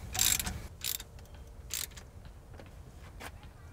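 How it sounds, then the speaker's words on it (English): Bursts of ratcheting from a 3/8 ratchet turning the harmonic balancer bolt by hand on a Jeep 5.7 HEMI engine during teardown, about five short clicking strokes with pauses between, fairly quiet and close. "I'm just gonna use my 3/8 ratchet and do it by hand"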